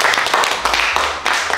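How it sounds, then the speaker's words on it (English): A small group of friends clap together at a birthday gift-giving celebration, a steady run of close, uneven hand claps across the whole moment with no talking. "Clap it up for Jose."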